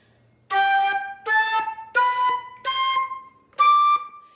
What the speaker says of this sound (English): when they first start playing the flute, they stop the note with their tongue.